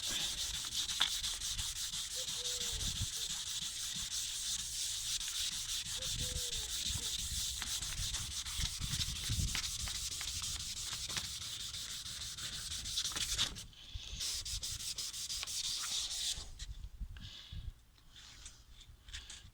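Hand sanding a yellowed, scratched and crazed car headlight lens with 800 grit paper, steady rapid back-and-forth rasping strokes, close and continuous, easing and pausing near the end with no one speaking.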